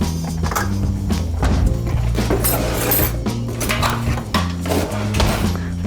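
A spoon grabbed for scooping macaroni and cheese: quick metallic clinks and clatters of cutlery against dishes and pots, close and sharp in a busy burst of small knocks.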